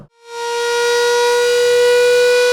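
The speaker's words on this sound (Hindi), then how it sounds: "रमज़ान शरीफ के सिलसिला में सायरन चलाकर चेक किया" A civil defense siren used to signal Ramadan sehri and iftar times is test-sounded, rising quickly from silence into a loud, steady wailing tone that holds to the end.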